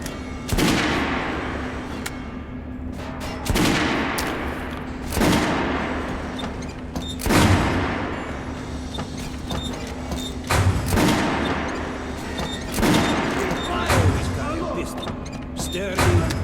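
Gunfire in the Metro Last Light Redux video game comes as repeated sharp, loud bursts spaced a second or two apart over continuous background noise, with shouted voices nearby.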